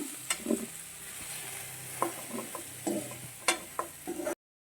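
Capsicum sizzles softly as it roasts in a pan while a spoon scrapes and clinks against it every second or so, close up and fairly quiet.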